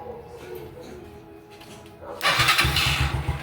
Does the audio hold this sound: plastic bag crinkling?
no